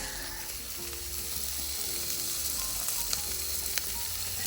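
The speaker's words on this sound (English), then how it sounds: "Put my spuds on now." Potatoes sizzle on a Cadac gas barbecue at a campsite, a steady close crackle with faint clicks and occasional sharper pops.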